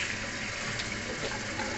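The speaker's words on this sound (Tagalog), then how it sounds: "Ito, tubig lang sa atin. Hindi natin sayangin yung ice." Tap water runs steadily into a sink to cool freshly boiled eggs, a continuous close splashing gush with no talk.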